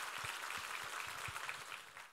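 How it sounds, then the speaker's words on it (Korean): Congregation clapping in thanks during a Sunday church worship service, a steady dense patter of many hands sustained throughout, moderately distant in a reverberant sanctuary. "우리 하나님께 감사와 영광의 박수를 올려드리겠습니다"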